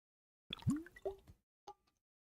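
Water being taken for a drink: a few quiet, distinct plopping, gulping sounds spaced apart in a silent room.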